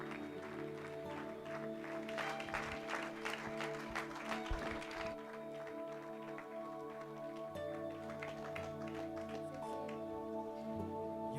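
Audience applause for an award-winning team at a business school conference and awards ceremony in Bangalore, a steady wash of clapping over a sustained musical tone, loud at first and thinning toward the end.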